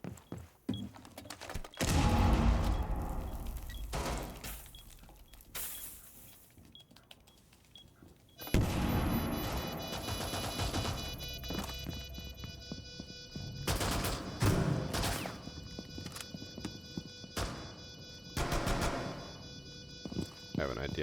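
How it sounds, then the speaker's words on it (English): Secondary shotgun firing in Rainbow Six Siege comes as several loud, sharp blasts spread irregularly through the passage, mixed with in-game clatter and ambient noise, with brief quieter stretches between bursts. "Let's pull out the secondary shotgun."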